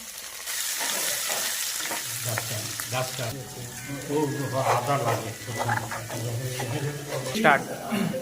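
Chopped garlic fries in hot white oil in a pan, a loud, continuous close-up sizzle with stirring scrapes, and a voice can be heard at times over the frying.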